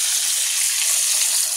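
Catfish nuggets frying in a pan, a steady bright hiss and crackle of hot oil that is continuous, close and fairly loud, with no talk.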